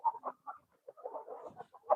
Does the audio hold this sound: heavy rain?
no